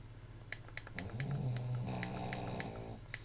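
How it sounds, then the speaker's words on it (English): A sleeping dog snores loudly and close up, a drawn-out rumbling snort with a nasal, growly texture lasting most of the moment, while a few faint clicks tick in the background. "my dog is snoring obnoxiously loud."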